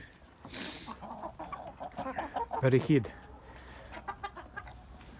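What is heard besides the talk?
Leghorn hens clucking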